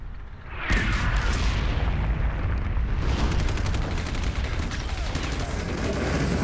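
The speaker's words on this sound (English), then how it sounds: "you hear that? Those sound big. It's a tank. And Abrams." An M1 Abrams tank fires in an Xbox combat game, a heavy boom that opens into dense, continuous rumbling battle noise with rapid crackling gunfire layered on top.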